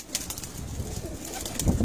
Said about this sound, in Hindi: ये फकीर गुल कबूतर है बहुत पुराना कबूतर है ये